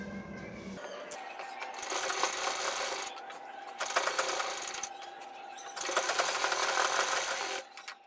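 A sewing machine stitches a buckram neckline for a suit, three separate bursts of rapid mechanical whirring stitching, each lasting a second or two, with brief pauses between, close and moderately loud.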